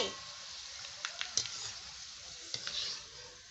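Homemade nali papad fry in hot oil with a soft, steady sizzle and a few sharp crackles, while a person talks quietly over it.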